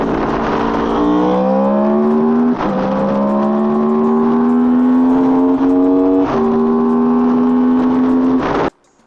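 A motorcycle engine revs hard while riding, its pitch climbing steadily through gears with two brief shift breaks, loud and close until it cuts off abruptly at the end, with no talking.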